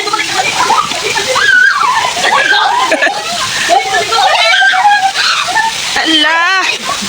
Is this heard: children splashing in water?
yes